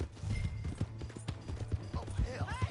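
Horse hooves clop and gallop in a quick, steady rhythm in the Red Dead Redemption 2 video game, loud and close, with people talking over them.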